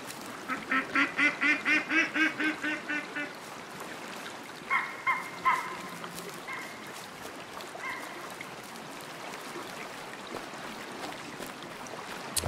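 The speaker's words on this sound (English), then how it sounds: "The ducks are pretty loud, yeah." Ducks quack repeatedly in the hunting video game Way of the Hunt, a loud rapid burst of calls at first, then a shorter second run of quacks over steady flowing water in the background.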